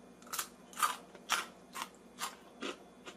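Crunchy air-fried french fries being chewed, seven evenly spaced crisp crunches about half a second apart, close and clear with no talking.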